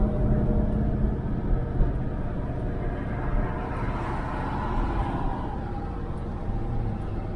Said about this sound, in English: here comes a nice convertible Camaro